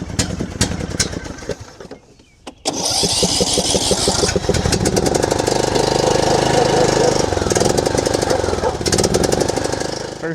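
A John Deere LA105 riding mower that needs a new carburetor sputters briefly, pauses, then cranks and catches. Its small engine settles into a loud, steady, rough chugging up close.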